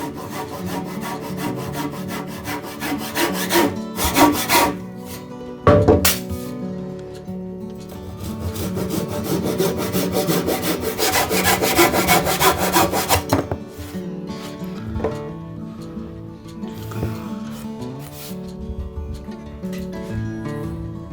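A hand saw cuts wood for a ceiling molding in a kitchen dining room, rasping in steady back-and-forth strokes up close with one sharp knock midway, then the sawing continues more unevenly, without speech.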